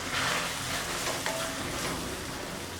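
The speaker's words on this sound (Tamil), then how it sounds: "இது ஒரு 1 நிமிஷம் கொதிக்கட்டும்" A pot of snake gourd kootu bubbling and simmering, a steady dense broadband hiss with faint popping and crackle, continuous and fairly close, with no voices.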